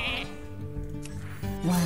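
Sheep bleat from a transform spell in the Hearthstone card game, a single wavering, nasal bleat that runs the whole short stretch and rises into a louder, higher cry at the end.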